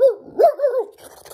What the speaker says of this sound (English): Is Zeus a cat or a dog? Dog.